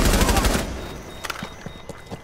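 A loud burst of automatic gunfire in Rainbow Six Siege on PS4 opens, then fades into a few scattered sharp shots and impacts, with players talking over it.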